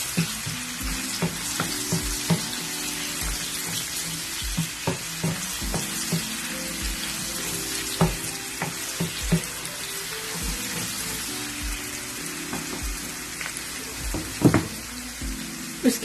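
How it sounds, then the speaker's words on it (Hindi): Ginger garlic paste sautés in hot oil in a karahi, giving a continuous crackling sizzle with intermittent stirring clicks and scrapes throughout, no voices. "जिंजर गार्लिक का पेस्ट 1 टीस्पून है, ये मैं ऐड कर लूंगी। इसको ऑयल में हल्का सा सौते करेंगे हम।"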